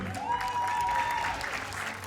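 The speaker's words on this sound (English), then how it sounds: "let's give a round of applause for the fourth place Italian team" Brief applause from a crowd at a women's 10m air pistol team final in Wroclaw, Poland, honouring the fourth-place Italian team; steady clapping with a faint tone running through it.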